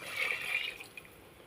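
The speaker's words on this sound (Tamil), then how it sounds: "இப்போது நம்ம மிக்ஸி கழுவுன தண்ணி, அப்புறம் எக்ஸ்ட்ரா ஒரு செம்பு தண்ணி விட்டுக்கிறோம்" Water from rinsing a mixer jar, plus an extra pot of water, poured into sautéed masala for chicken curry in a pressure cooker, a brief soft splashing trickle that fades within a second.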